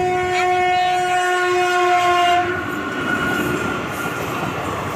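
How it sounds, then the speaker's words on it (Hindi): A train rumbles past nearby with loud wheel noise and a sustained whistle-like tone that cuts off midway, leaving the steady rolling clatter. "ट्रेन आसिला"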